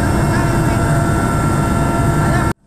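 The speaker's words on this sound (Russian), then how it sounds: "Вертолет садится рядом с деревней Щелина." A helicopter flies with a loud, constant, dense rotor and engine roar that stays close and even before cutting off abruptly at the end.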